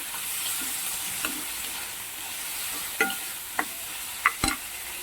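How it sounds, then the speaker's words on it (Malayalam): Onions and tomatoes sauté in a pan for a drumstick masala curry, crackling in a steady sizzle, with several scraping stir strokes and clinks near the end. "ഉള്ളി ഒന്ന് മൂത്ത് വന്നിട്ട് നമുക്ക് അതിലോട്ട് ഈ തക്കാളിയും കൂടി ഒന്ന് ചേർത്ത് കൊടുക്കാം തക്കാളി ഒന്ന് നന്നായി വഴന്ന് വരട്ടെ"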